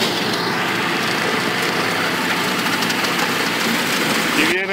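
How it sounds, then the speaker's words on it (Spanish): A steady tractor engine drone rumbles throughout, loud and close, with a brief rising whine near the end as it draws nearer while clearing brush in an oil palm plantation. "Y viene el tractor"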